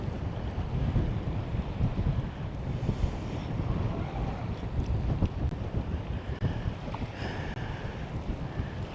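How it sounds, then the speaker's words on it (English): Steady wind gusts across an open lake buffet the microphone from a fishing boat, a loud continuous rumbling roar with faint water lapping and no voices. "that wind's really starting to pick up now"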